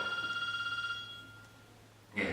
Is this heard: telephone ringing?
yes